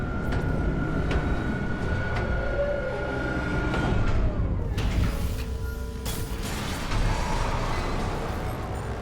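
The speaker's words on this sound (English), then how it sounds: "Replacing damaged tram car. Please stand by." A tram car moving in the Dead Space video game rumbles and hums steadily, with a sustained tone, faint clanks and a shift in pitch midway, loud and continuous with no talk.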